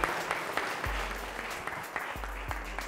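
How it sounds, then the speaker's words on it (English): A college quiz audience gives a round of applause for the competing teams, producing a soft, steady wash of clapping from a crowd with occasional sharper hand claps standing out. "So another good round of applause."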